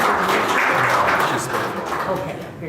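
Mourners at a memorial service give a modest round of clapping, a soft, fairly even patter that gradually thins out over a few seconds.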